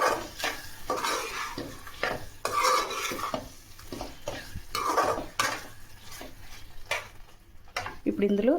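A spoon stirs gongura paste through prawn curry in a pan, giving repeated scraping strokes over a soft sizzle, with clinks against the metal in an uneven rhythm close to the listener.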